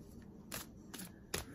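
Three quick papery riffles of oracle cards being shuffled, close and soft, spaced about half a second apart.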